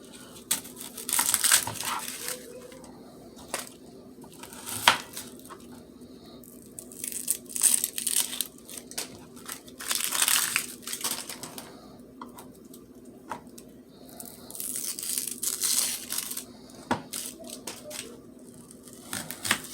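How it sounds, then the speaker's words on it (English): Onions are sliced with a knife in a kitchen while a vegan fried rice is prepared. Close, crisp crunching cuts come in irregular clusters, with quieter pauses between batches of chopping. "we're going to go ahead and cut these onions up."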